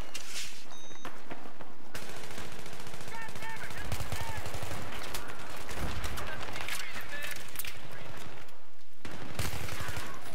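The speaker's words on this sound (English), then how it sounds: "I hear a shotgun somewhere." Rapid automatic gunfire bursts in a tactical shooter game, loud and sustained over several seconds with scattered heavier shots, overlapping game ambience and a voice talking.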